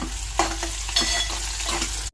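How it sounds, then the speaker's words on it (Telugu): Coriander seeds, mustard seeds, cumin, ginger pieces and curry leaves sizzle in hot oil as tempering for a gram flour curry, a short close crackle with a few stirring clatters and no voices. "శనగపిండి కూరకి పోపులు వేసుకుంటున్నాము"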